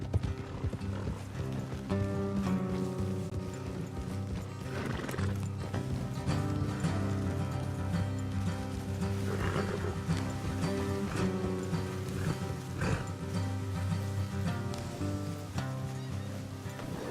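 Horses gallop in Red Dead Redemption 2 with a steady rhythm of hoofbeats, kept up throughout beneath a continuous orchestral music score.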